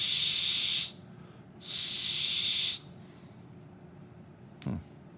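A cheap plastic whistle from a Harbor Freight Gordon survival kit, blown hard in two airy, hissing blasts of about a second each with a short gap between them. It sounds more like rushing breath than a clear whistle tone, close up and loud.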